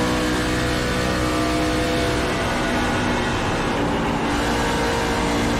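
A race truck engine drones loudly and steadily at Texas, with a slight dip as the driver eases off the gas before the tone holds again, and no voices are heard.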